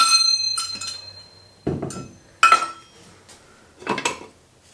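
A utensil knocks and clinks against a metal pot while jalapeno simple syrup is stirred, giving a few sharp, close metallic clanks separated by short pauses, with no speech.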